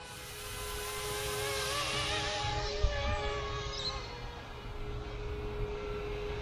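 A YU XIANG F06 EC135 brushless RC helicopter flies nearby with a steady, high motor whine over a buzzing rotor wash. The pitch wavers gently as it maneuvers, and the sound holds at an even level throughout.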